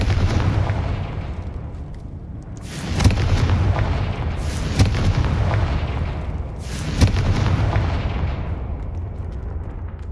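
Confringo fire spell explosions in the Hogwarts Legacy video game: three loud booming blasts land a couple of seconds apart over a steady rumbling game soundscape.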